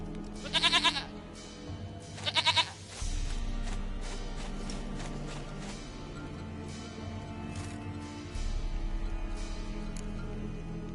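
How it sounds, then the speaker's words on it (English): A goat in The Witcher 3 lets out two short, wavering bleats in quick succession, followed by a low rumble and game ambience and faint footsteps. "Goat of mine, dearest, sweetest goat."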